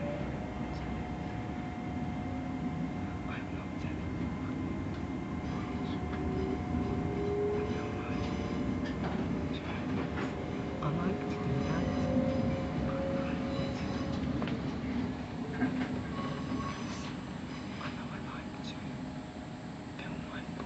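Inside GWR train 802106 between Paddington and Slough, a steady low rumble and hum of running carriages carries on throughout, with faint whispered voices nearby.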